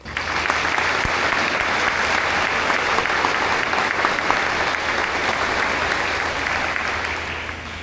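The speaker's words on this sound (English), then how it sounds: "Please join me in a round of applause for their hard work and their commitment." Large crowd applauding at a Marine Corps JROTC birthday ball ceremony, a thick, even roar of clapping that holds steady throughout and tapers slightly at the end.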